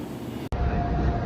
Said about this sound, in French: Those trains are part of the L.